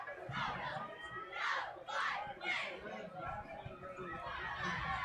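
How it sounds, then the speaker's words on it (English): Crowd of family members cheering and shouting loudly at a high school football game, Princeton Vikings at Lakota West Firebirds, with rising bursts of whoops and yells over steady stadium crowd noise. "You hear his little bunch of family getting a little loud,"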